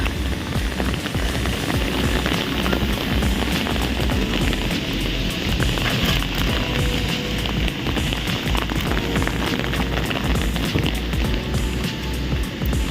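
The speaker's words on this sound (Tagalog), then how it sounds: "Patuloy ang ulan hanggang kahapon. Mula kahapon hanggang ngayon." Steady rain pours on a wet path near a cafeteria on a cold morning, a dense, even hiss of drops that stays loud and close for the whole stretch, with no talk over it.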